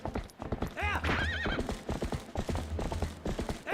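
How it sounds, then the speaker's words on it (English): Epona the horse in Zelda: Twilight Princess neighs loudly and clip-clops at a gallop, with hoofbeats and whinnies up front over game music and effects, and a voice talks briefly over it. "I think the horse knocked it over."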